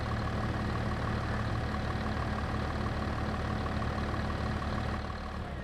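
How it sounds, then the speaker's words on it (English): A vehicle engine in the Farming Simulator 22 video game drones in a steady, loud idle with a constant low rumble for several seconds, easing off slightly at the very end, with no one talking. "A little bit longer ignition time and a little bit bigger engine sound"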